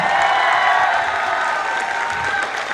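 Audience applause at a live Bollywood mimicry comedy show, a loud, dense wash of clapping from a crowd that holds steady throughout with faint cheering mixed in.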